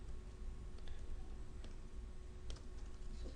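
Keys on a computer keyboard are tapped in short, quick bursts of light clicks, close and fairly quiet against a soft room hiss.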